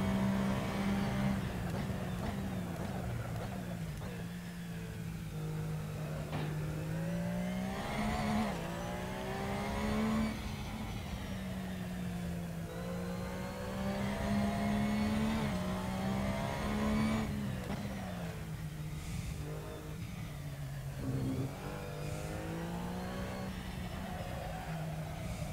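A race car engine in Assetto Corsa laps the Nürburgring, droning steadily and rising and falling in pitch through gear changes and corners, loud and continuous for the whole stretch with no talk over it.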